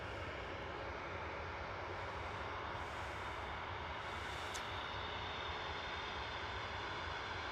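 Lufthansa Airbus A320neo departing Manchester Airport for Munich, a loud steady jet engine roar filling the whole stretch, close and unbroken, with no voices.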